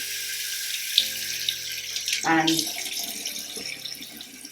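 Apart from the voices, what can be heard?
warm water running from tap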